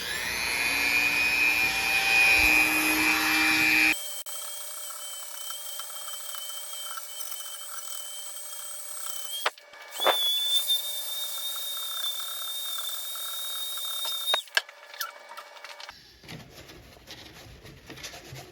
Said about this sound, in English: I am going to go ahead and place my Dremel on setting number 6, and we are going to go ahead and start grinding away